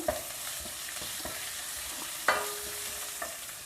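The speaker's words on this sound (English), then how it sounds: "lightly stir fry the vegetables in the oil" Capsicum, French beans and carrot stir-fry in oil, a low constant sizzle broken by a handful of spatula scrapes and clacks against the pan, one sharper knock near the middle.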